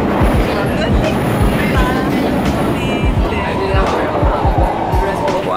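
A Singapore metro train running underground rumbles with rhythmic wheel clatter and occasional high squeals, loud and steady throughout, with a voice talking over the noise.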